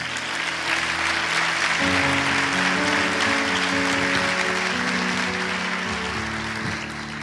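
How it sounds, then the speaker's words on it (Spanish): A church congregation applauds steadily and loudly throughout, with sustained music or tones underneath. "Dele un aplauso al Señor"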